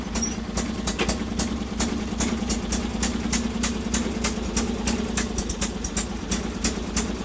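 The small engine of a Sears Suburban loader idles steadily with its choke stuck on, a loud, close, rhythmic chugging with regular ticking pulses and no voices.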